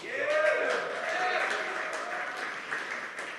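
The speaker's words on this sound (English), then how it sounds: "so let's give yourselves a big round of applause" An audience at a youth summit held at an arts venue claps in a steady, fairly loud patter that slowly thins, while a voice talks over it throughout.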